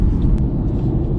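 A BMW G20 330i under full-power acceleration gives a steady, deep engine and road rumble heard from inside the cabin, loud and continuous with no talking.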